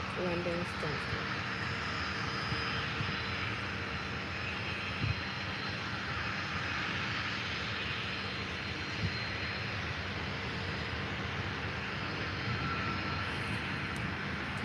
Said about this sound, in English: The next arrival is Jet2 Holidays A321neo from Edinburgh.